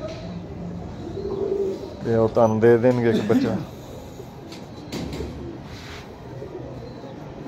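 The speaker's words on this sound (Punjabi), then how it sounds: "ਦੇਖੋ ਕੈਸਾ ਇਹ ਕਬੂਤਰ" A pet pigeon kept by a pigeon fancier gives a run of throaty, rhythmic coos in the middle, close and fairly loud, with someone talking before and after.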